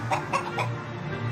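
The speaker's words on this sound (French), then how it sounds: "La ville a introduit toute une basse-cour vagabondant librement au milieu des véhicules." Farmyard chickens roaming the town streets of Montélimar among vehicles give a few short, faint clucks near the start over a low steady traffic hum.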